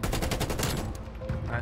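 Krig rifle firing in a Call of Duty game: a fast burst of closely spaced automatic shots, loud at first, then the shooting thins out into scattered game noise.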